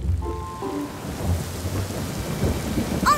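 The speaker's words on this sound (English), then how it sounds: "Oh no! Rain!" Steady rain shower with deep rolling thunder in a cartoon, a continuous low rumble under hissing rainfall, fairly loud and close, with no voices.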